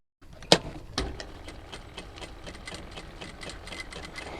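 A sewing machine stitches a bra strap fitted with a ring and slider, set to a 2.5 stitch length. Two sharp clicks open a steady, close, even mechanical whir that runs alone to the end.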